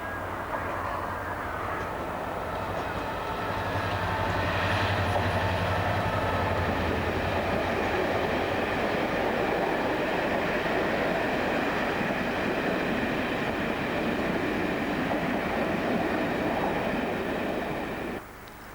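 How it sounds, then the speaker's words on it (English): A Class 67 diesel locomotive hauling an empty postal stock train from St Blaise to Penzance, a steady loud rumble of engine and rolling wheels passing close by for the whole stretch. "This is the empty stock movement from St Blaise to Penzance, ready for the evening's TPO to London."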